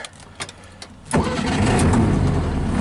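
A 1961 VW Beetle engine catches after a few faint clicks and knocks, then settles into a loud, steady, close running rumble.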